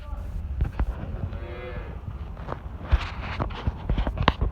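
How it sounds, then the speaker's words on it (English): Beef heifers on a dairy farm moo in a long low call, with shuffling hooves and barn clatter around them nearby. "That's our beef heifers."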